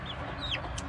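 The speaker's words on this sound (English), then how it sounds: "I think that's a rooster." Chickens on a backyard egg-laying flock, with a rooster among them, clucking and chirping up close in short rising calls over a steady background hum, no talk present.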